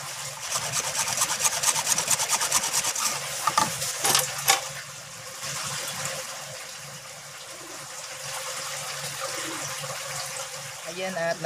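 A hand saw cuts through a plastic box organizer, making rapid rhythmic rasping strokes for a few seconds, then scattered scrapes and a quieter stretch, with some background noise.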